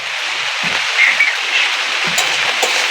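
Long-cut potatoes hit hot oil with onion and green chilli, giving a bright, continuous sizzle and crackle close to the pan, with a few soft clinks of utensils and no talking.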